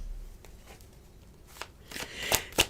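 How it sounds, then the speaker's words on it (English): Cards are shuffled and pulled for a card reading, soft papery riffles and slides building to a few sharper snaps at the end, close and quiet with no talk. "this is where they want me to pull cards"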